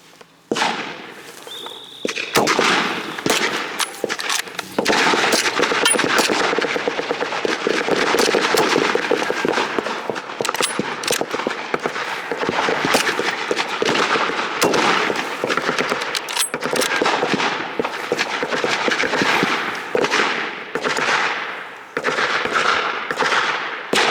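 Rapid, dense gunfire at a battle reenactment on a farm, continuous crackling volleys of blank rounds close by and loud throughout, with sharper individual shots standing out over the sustained rattle.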